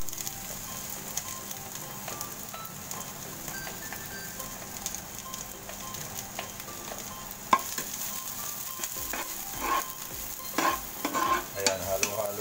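Onions being stirred in a pot over heat, a soft, steady sizzle under repeated scraping and clinking from the spoon that grows busier toward the end, close by, with no speech.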